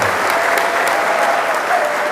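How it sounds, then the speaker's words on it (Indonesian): An audience at a childhood cancer awareness talk gives a short burst of steady, even clapping that stops abruptly after about two seconds. "tepuk tangan dong"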